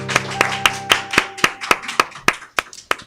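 Scattered claps from a small TV studio audience greeting a blues musician, a dozen or so sharp separate hand claps in an uneven rhythm, close and fairly loud, with a faint sustained musical tone underneath.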